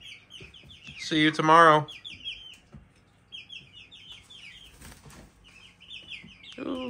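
Young chicks peep with high, steady chirps throughout, and there is a brief rustle of ruffling feathers or flapping wings near the middle. A person speaks briefly near the start.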